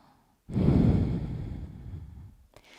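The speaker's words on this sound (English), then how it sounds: "Let's take everyone 1 breath here." One long, deep exhaled breath during a yoga stretch, starting abruptly, loud and close, then tapering off over about two seconds, with a short second breath at the end.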